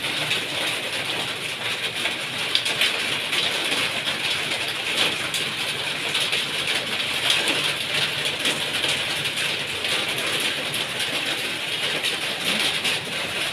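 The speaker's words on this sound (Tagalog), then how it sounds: "Inabot na ng ulan." Steady rain pours down in a dense, even hiss, loud and continuous throughout, with no voices.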